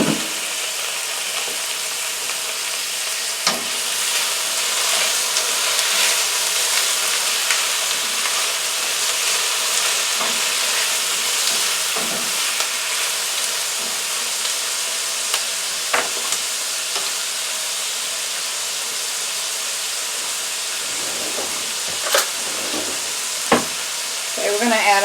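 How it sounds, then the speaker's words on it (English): Zucchini and red pepper cubes fry in a pan with a loud, continuous sizzle, close by and unbroken. Occasional sharp clicks and scrapes from stirring cut through the hiss. "we're going to add our zucchini, red pepper, all cut up into cubes"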